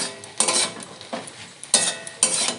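Spices being stirred into vegetables in a pan for a Bengali shim (flat bean) dish, with scraping strokes coming in three louder bursts over a soft continuous sizzle, close up and without talk.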